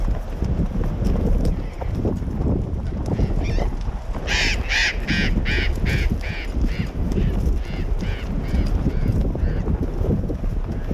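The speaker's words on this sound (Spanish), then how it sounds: "en unos segundos pasarán sobre nuestras cabezas una pareja de loros tricahue" A pair of tricahue parrots flies overhead during a horseback ride in the Río de Los Cipreses reserve, giving a run of harsh, repeated squawks over the steady clip-clop of hooves.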